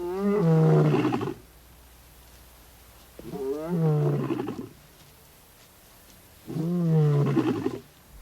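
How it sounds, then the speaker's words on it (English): Recorded lion roars blast from a truck in the African wild: three loud, deep roaring bouts, each a series of grunting calls, separated by pauses of quiet. "Finally, he realizes that the roars are coming from the vehicle."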